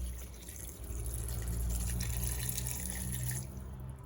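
One and a half glasses of water pour into a cooking pot of salted mutton namkeen gosht, a steady close splashing stream lasting a few seconds before tapering off.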